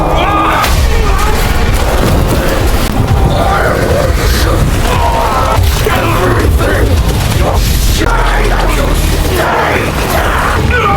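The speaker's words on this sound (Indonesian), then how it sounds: "makhluk penghuni lautan darah ini hancur setelah meledak bersama kapal selam Simon" A submarine explodes together with a sea creature in a film, giving loud, sustained booming blasts and rumbling that fill the whole stretch with dense, continuous roar.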